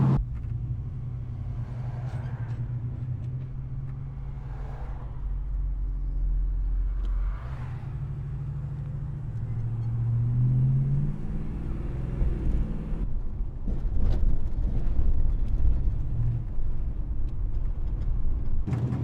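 A classic Ford Drifter panel van drives along, its low engine rumble steady and close inside the cabin, swelling with occasional revving and shifts, with no talk.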